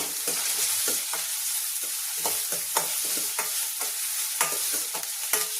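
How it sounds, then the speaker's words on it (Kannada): Onions and green chillies frying in a pan for mushroom gravy, a constant loud sizzle with repeated scraping strokes of a spatula stirring through it, close up and without speech. "ಈರುಳ್ಳಿ ಫುಲ್ ಬ್ರೌನ್ ಕಲರ್ ಬರೋವರೆಗೂ ನಾವು ಫ್ರೈ ಮಾಡ್ಕೋಬೇಕಾಗತ್ತೆ"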